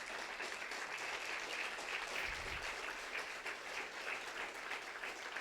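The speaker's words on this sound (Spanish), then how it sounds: "denle un fuerte aplauso a Jesús." A church congregation claps at a sermon, a steady, even wash of applause heard at a moderate-to-faint level throughout, with a brief low thump near the middle.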